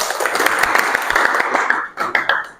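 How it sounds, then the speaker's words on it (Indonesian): A short burst of applause from a small group at a teacher certification assessment, dense clapping that thins out toward the end. "Tepuk tangan."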